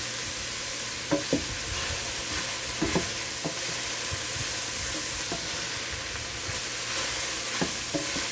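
Shrimp fried rice being stir-fried with bean sprouts, a steady close sizzle and frying hiss running throughout, punctuated by a few sharp spatula scrapes and clacks against the pan, no voices.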